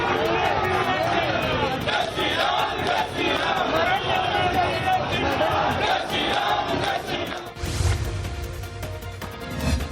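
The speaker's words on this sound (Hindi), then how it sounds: "इस रोड शो में कार्यकर्ताओं की भारी भीड़ थी। यहां कार्यकर्ताओं ने जमकर नारेबाजी की।" A large crowd of party workers at a roadside road show chants slogans loudly together, a continuous roaring mass of voices with rhythmic shouting throughout.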